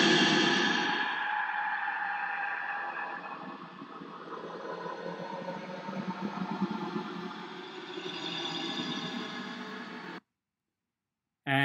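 A pop song slowed and smeared by a Paulstretch effect in Audacity becomes spooky ambient music: dense sustained droning tones that swell and shift slowly, steady and fairly loud for about ten seconds, then cut to silence.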